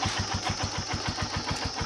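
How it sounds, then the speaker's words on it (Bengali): A motorbike engine starting and settling into a fast, regular idle, its low chugging pulses steady and close, with no talk over it. "বাইক স্টার্ট দিয়ে দিয়েছে"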